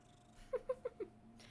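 Velvet the cat lets out four short, quiet chirping meows in quick succession, close by against a hushed background.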